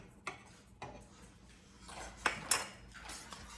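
A spoon stirring pineapple monkey butter clinks against a cooking pot in a few sharp, scattered taps. The sounds are faint and close, in a quiet room.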